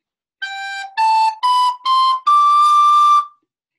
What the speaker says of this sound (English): If I just played the scale up, it would sound like this.